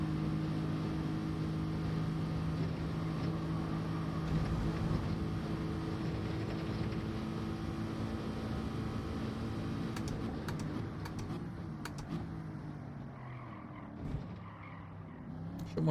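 A car engine in Gran Turismo 7 hums with steady tones that climb and shift during a race, as a continuous mid-level drone with clattery keyboard-like taps later on.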